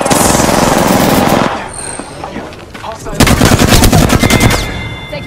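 Loud, dense automatic gunfire from the video game Apex Legends, rapid bursts for the first second and a half, a quieter lull, then another sustained volley of sharp repeated shots, with game voice lines mixed in.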